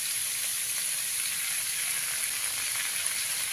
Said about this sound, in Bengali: আদা বাটাটা দিয়ে খুব ভালো করে মিশিয়ে নিতে হবে